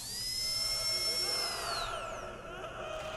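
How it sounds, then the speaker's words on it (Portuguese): A power drill heard as a memory at a workbench in Black Ops 3 Zombies: a loud, sustained high whine that holds steady, then its pitch drops away as the motor winds down. "Se eu interagir, por exemplo, aqui nessa furadeira, a gente escuta memórias do que fizeram com essa furadeira nessa bancada."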